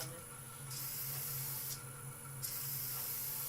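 An airbrush sprays iridescent paint in a woodturning workshop, giving a steady close hiss with brief pauses and restarts over about three seconds.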